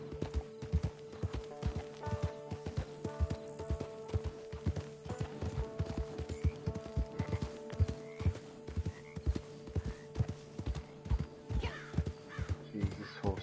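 A horse's hooves clip-clop in a quick, even rhythm in Red Dead Online, each strike crisp and close, with a steady tone droning underneath.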